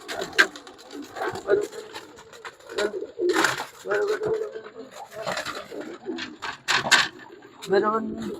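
Male pigeons released for their first day out, struggling to climb, coo in a string of soft repeated calls near and far, with a person talking over them.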